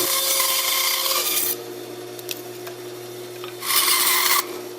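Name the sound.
trimming a wooden fish cutout by hand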